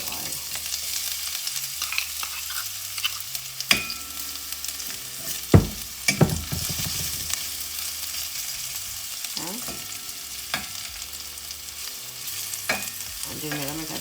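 Garlic, ginger and pimento seeds sizzle steadily in hot oil for Jamaican curry chicken foot, a close, continuous hiss broken by occasional clinks and scrapes of a stirring utensil.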